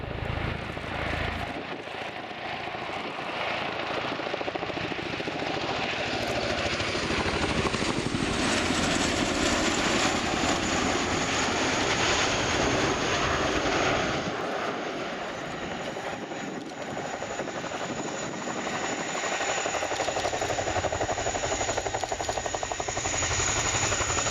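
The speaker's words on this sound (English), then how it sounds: "the Chinook can taxi and take off backwards" A Chinook helicopter flying a display at the RIAT 2016 airshow, its dense broadband rotor and engine roar sustained and loud for the whole stretch, with a steady high whine above and a slight swell and dip midway.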